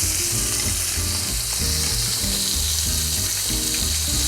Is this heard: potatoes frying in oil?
yes